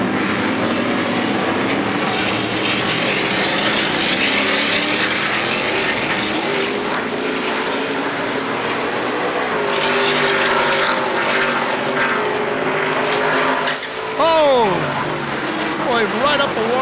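Race cars lapping the Long Beach street circuit near the hairpin and along Shoreline during a 2023 race, their engines droning loudly with rising and falling pitch as they pass, under a race commentator's voice.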